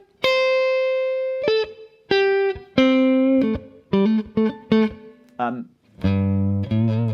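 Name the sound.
electric guitar solo using chord tones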